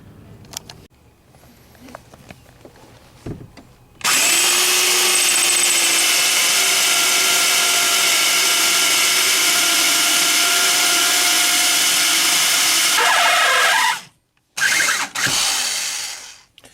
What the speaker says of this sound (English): now we switch to the 1/4 inch drill bit